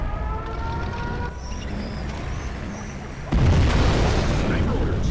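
A nuclear missile launch in a war strategy video game: a steady rumbling drone with a faint siren-like wail, then a sudden loud booming blast that swells into a heavy, sustained roar.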